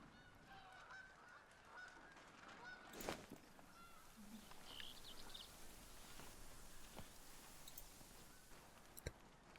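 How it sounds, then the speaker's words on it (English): Geese honk repeatedly in theHunter: Call of the Wild at a pond, a chorus of calls of middling loudness over steady outdoor ambience, with one sharp louder burst near the start and a brief click near the end. "now the geese are all teasing me and honking"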